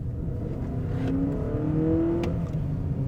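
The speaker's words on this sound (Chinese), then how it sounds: "但你现在听到的这个引擎声浪呢，" Synthesized engine note from a Honda CR-V 2.0L e:HEV, played through a dedicated speaker in Sport mode, rising in pitch as the hybrid SUV accelerates hard, steady and close over road hum, with no talking.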